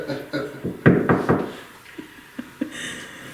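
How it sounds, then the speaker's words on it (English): Knuckles rap on a wooden surface in a manor house, a cluster of sharp knocks followed by a few spaced single taps, close and fairly loud in a quiet room. "You can make a knocking noise like this."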